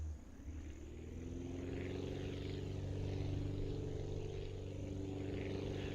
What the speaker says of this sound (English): Now I wish I had a slightly more aggressive takeoff angle.